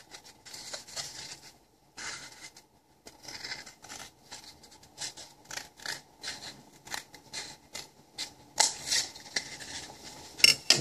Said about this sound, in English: So cut along the crease, like so,